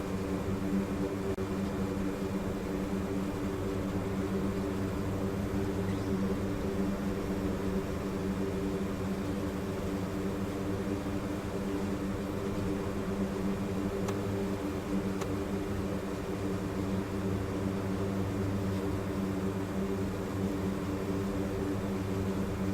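Steady, loud drone of a C-130J-30 turboprop transport idling on the runway after landing at Bodø in a DCS flight simulator, an even propeller and engine hum with no talk over it.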